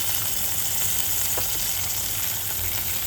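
Chili-garlic paste sizzles in hot oil with browned onion while bharit of ridge gourd is prepared, a steady close frying hiss with a brief stir partway through, no voices.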